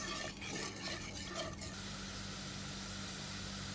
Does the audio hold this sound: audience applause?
no